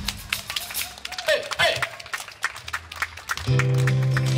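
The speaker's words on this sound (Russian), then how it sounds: "Ребят, давайте аплодисменты." Crowd applause at an outdoor music show in a city park, claps and cheers under a host's talk, with a band's sustained tones cutting in near the end.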